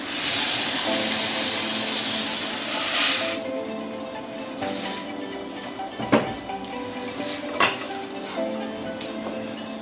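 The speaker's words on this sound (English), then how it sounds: "I'm going to add my Indian rice" Uncooked Indian rice poured into a cooking pot for a stir-fry chicken and vegetable dish, starting as a loud broad hiss and rattle of grains, then settling into quieter clinks and scrapes of the pot with a couple of sharp knocks.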